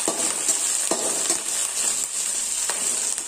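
Garlic rasam ingredients with curry leaves sizzle in a pan over a steady frying hiss, broken by a few sharp scrapes as a spoon stirs them, close up with no voices.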